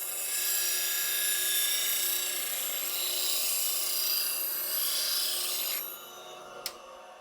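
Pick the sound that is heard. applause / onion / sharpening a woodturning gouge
sharpening a woodturning gouge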